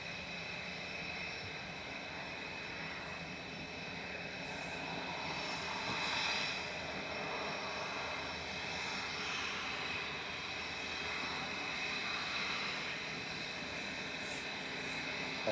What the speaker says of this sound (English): Yeah, rejected takeoff